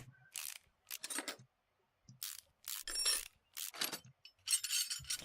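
Drive axle being removed in the video game Car Mechanic Simulator 2018, a series of short mechanical clicks, ratchet-like rattles and clunks in bursts separated by brief silences, close and crisp.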